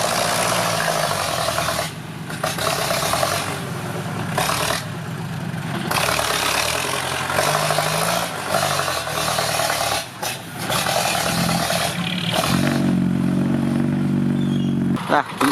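Loud, rough Yanmar EF494T tractor engine roar with a harsh, rattling straight-pipe exhaust and no muffler, revving up and down continuously while pushing a dirt pile, with people talking over it.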